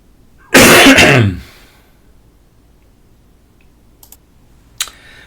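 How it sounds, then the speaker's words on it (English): One loud, harsh cough close to the microphone, followed by quiet and a couple of faint clicks. "I had to cough"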